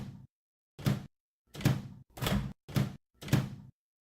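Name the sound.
microwave door opening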